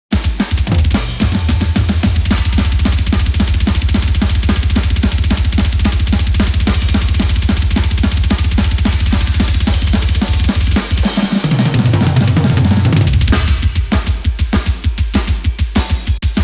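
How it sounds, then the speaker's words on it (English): Full drum mix from a thrash metal song, loud and dense with rapid kick and snare hits driving steadily throughout, then a busier fill near the end; no voices. "And so all the drums together sound like this."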